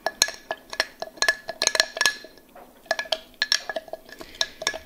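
A spoon stirs acorn-flour sourdough starter with water in a glass jar, making a close series of sharp clinks and scrapes in uneven bursts.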